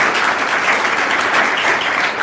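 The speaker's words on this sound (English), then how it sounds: "Let's give Scott a round of applause." An audience at a software forum applauds, with a short burst of steady, fairly loud clapping.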